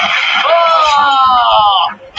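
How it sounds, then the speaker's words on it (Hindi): A horror-story scream sound effect: a single loud, high-pitched, sustained scream lasting about two seconds, then cutting off abruptly. "ये चीख डाकघर में बैठे महेश को सुनाई दी"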